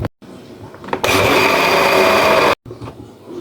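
A blender grinds garlic cloves, a steady dense whir lasting about a second and a half between short quieter stretches, loud and close.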